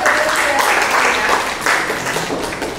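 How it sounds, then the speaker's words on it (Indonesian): Students in a classroom lesson on measuring instruments clap together in a brisk, close burst of applause that swells in waves and tapers slightly toward the end. "Ampermeter, tepuk tangan ya."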